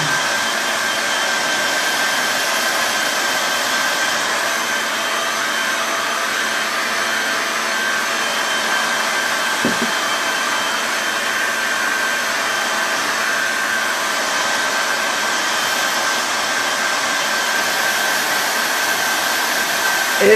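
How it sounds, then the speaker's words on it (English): A hair blow dryer runs at a steady, loud whir for the whole stretch with no pauses, drying a freshly made craft project up close. "We're going to hit it with the blow dryer again. Speed up the drying process."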